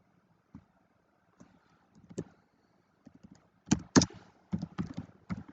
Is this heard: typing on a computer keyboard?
yes